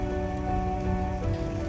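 Steady rain falls and patters on surfaces outdoors on a North Island roadtrip, a dense, even wash of drops running unbroken throughout with no voices.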